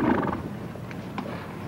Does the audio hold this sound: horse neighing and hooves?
yes